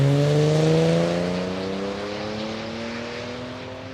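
A Chevrolet Silverado runs a drag strip at Palmyra Raceway, its engine roaring with a strong tone that slides and shifts as it pulls away, loud at first and then fading steadily into the distance.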